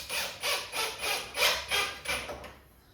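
A screw is hand-tightened into a wooden skateboard deck, producing a close, rhythmic series of about eight grinding, rasping turns roughly every third of a second before stopping.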